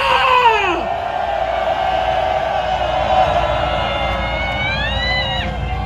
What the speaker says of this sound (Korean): 우리 함성이 대한민국 넘어 미국과 유럽 하늘나라까지 힘찬 함성과 함께 파도타기 시작!